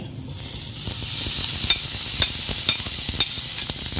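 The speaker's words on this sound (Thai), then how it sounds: "ตั้งกระทะให้ร้อนนะ แล้วเราก็เอาลาบสุโขทัยใส่ลงไปเลย" Steady sizzling of Sukhothai-style minced meat frying in a hot pan, with light scraping taps as it's stirred, no voices.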